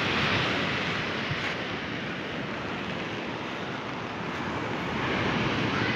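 Water near a small boat washes in a steady, broadband rush like surf, continuous and moderately loud with a slight swell at the start and end, and no voices.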